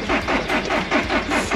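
Car engine cranking over as someone tries to start it, a rapid, rhythmic chugging churn repeating several times in quick succession, close and fairly loud.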